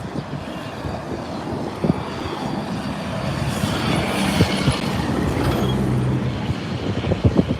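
The New York City 7 train runs along Roosevelt Avenue in Queens with a loud, continuous rumble, rhythmic wheel clatter and occasional metallic squeals, heard close without voices.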